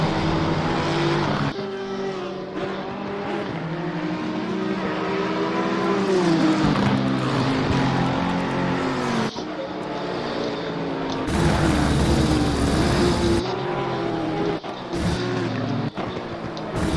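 Nissan GT-R race car in a racing video game at the Misano circuit, its engine loud and close, revving up and down through gear changes with rising and falling tonal whine, continuous for the whole stretch.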